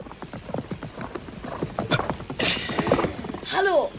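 Horse hooves clip-clopping closer in a German radio drama as a boy rides a piebald mustang up to a helicopter, steady quick hoofbeats with creaking tack, ending in a neigh.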